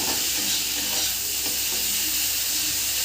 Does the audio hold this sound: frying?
yes